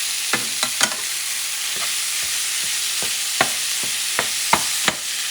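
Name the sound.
ground beef added to pan and stirred, sizzling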